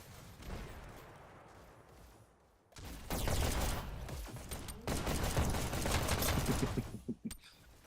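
Gunfire in a competitive multiplayer shooter match, dense bursts of rapid shots in close succession, loud and near, with a short lull before heavier firing resumes.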